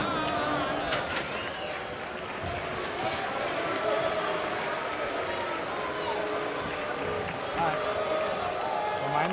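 Crowd roaring throughout a Mayweather vs Ortiz boxing fight, a steady dense wash of cheering and shouting with scattered claps, loud and continuous with no quiet gaps.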